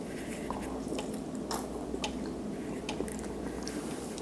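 Someone chews eggs close to the microphone, soft wet squishing bites repeating steadily over a faint background hum.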